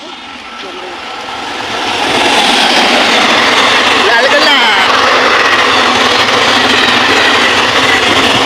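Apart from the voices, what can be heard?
train passing by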